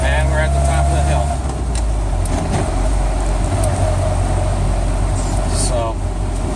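A 1961 Land Rover Series II engine drones loudly and steadily from inside the cab as it climbs a hill and shifts from fourth down to third. A voice talks over the continuous engine noise.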